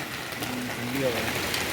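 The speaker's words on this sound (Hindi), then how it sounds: "कितनी तेज़ बारिश हो रही है" Heavy rain pours down steadily outdoors on a cold day, a dense close hiss with a faint tonal whine over it and a voice speaking beneath the downpour.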